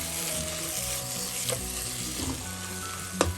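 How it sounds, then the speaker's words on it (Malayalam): Onions sautéing on a low flame for a Kerala-style chicken chilli curry, a dense continuous sizzle close up with a couple of sharp utensil clicks, no voices. "കുറച്ച് നേരം അടച്ചു വെച്ച് ലോ ഫ്ലെയിമിൽ ഒന്ന് വഴറ്റാക്കാം"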